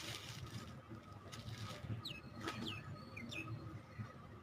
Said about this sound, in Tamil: குருவி சத்தம் கேட்குதான்